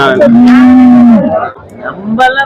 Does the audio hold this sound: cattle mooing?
yes